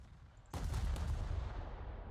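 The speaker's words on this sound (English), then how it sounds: "Fire another salvo." USS Pensacola's 8-inch guns firing a salvo in a naval video game: a sudden loud booming blast after a short lull, followed by a sustained rumbling roar that slowly fades.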